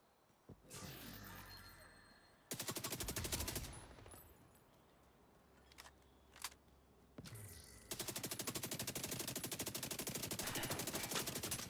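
Rapid SMG bursts in The Division 2, a new Slingshot submachine gun firing loud sustained automatic volleys with brief pauses between, plus a few single shots and impacts, close and dominant with no talking.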